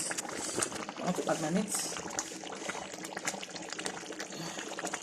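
Egusi (melon seed) soup with meat and fish bubbles and splashes in a pot on the stove, a steady close simmering crackle. A person talks over it.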